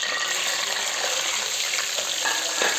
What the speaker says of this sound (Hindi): अब ऑयल को हमने गरम कर लिया है। सबसे पहले हम इसमें डालेंगे जीरा।